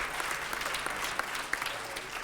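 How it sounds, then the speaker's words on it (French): An audience at an environmental business awards ceremony claps in a brief, steady burst of applause, dense and even throughout. "On vous applaudit encore une fois."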